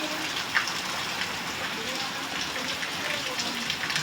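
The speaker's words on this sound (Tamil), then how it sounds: "மழை" Heavy rain pours down as flooding water runs, making a dense, unbroken hiss with scattered splashes, steady and fairly loud throughout.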